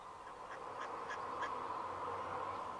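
Mother duck with her ducklings, giving three or four soft quacks at a steady pace against a constant hum in the background, fairly faint and with no talk.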